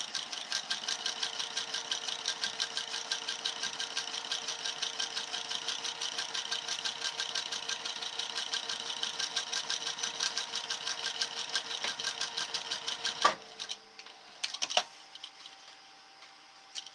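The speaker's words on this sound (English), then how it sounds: "So I'm just doing another row of stitching" A sewing machine runs a row of stitching along the bottom of a mesh-pocket bag, fast rhythmic needle clatter going steadily for about thirteen seconds, then stopping, followed by a few faint handling clicks.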